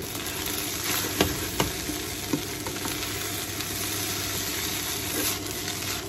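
Fried rice (sinangag) is stirred in a heavy wok over a steady sizzle and low hum, with a few sharp utensil knocks against the pan near the start.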